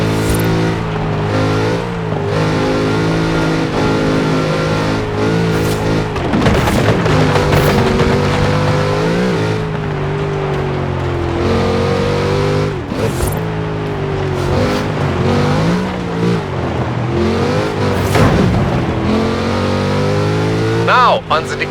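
A big Chevrolet engine in Forza Horizon 4 drives over rough ground and down a slope, revving up and down in long sustained surges with a strong low growl throughout, loud and close.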